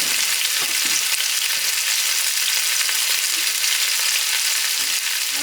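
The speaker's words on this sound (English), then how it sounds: "we're tossing all this meat in here to brown it to get the Maillard reaction going." Chunks of meat browning in a pot for chili, a loud, constant bright sizzle that stays even throughout with no speech.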